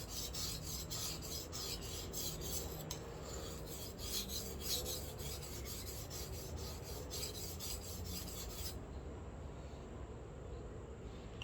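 A Japanese kitchen knife is re-profiled on a sharpening stone, giving a steady, close rasping scrape with rapid back-and-forth strokes that run continuously for most of the stretch before easing off near the end.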